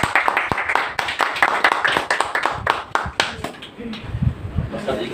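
An audience at a monthly Hindi poetry gathering claps to welcome a poet, with a few seconds of brisk, uneven hand claps close by before a voice takes over.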